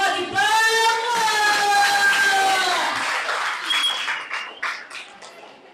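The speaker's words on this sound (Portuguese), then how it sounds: "uma forte salva de palmas!" Audience at a children's book festival applauds while a voice holds a long sung or shouted tone, followed by scattered claps and cheers fading out.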